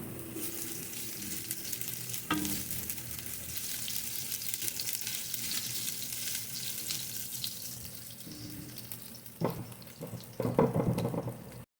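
Aromatics sizzle and fry steadily in a hot pan as part of making escabeche with salay-salay (yellow stripe trevally), a continuous crackling hiss with louder bursts of spatter near the end, and no talking.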